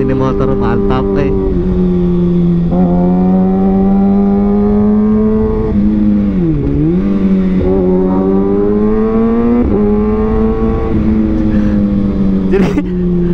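Loud, close engine drone of a 2021 Kawasaki Ninja ZX-6R on the move, holding a steady pitch that dips briefly around a gear change and then climbs again, with no speech.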